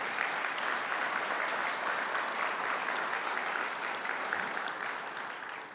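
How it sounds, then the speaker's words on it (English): Sustained applause from an audience for award participants and winners at a Landcare event, a dense, steady wash of clapping throughout that tapers slightly at the end. "Could you join me in a round of applause for thanking participants and award winners?"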